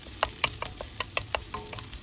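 Garlic sautéing in a pan until golden brown, with a steady low sizzle broken by a series of sharp clinks and scrapes from stirring, close and fairly quiet.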